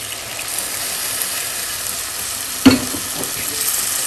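Strained tamarind water is poured into hot masala for a peppery sardine curry. A loud, even hiss of sizzling carries a single sharp clink partway through, and no one speaks.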